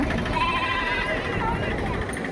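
Goats bleat a few times amid a crowd's chatter and general outdoor noise at the Gudur sheep and goat market.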